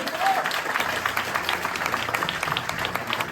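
An audience at a show in Corsica applauds steadily with dense, continuous clapping that holds an even loudness throughout.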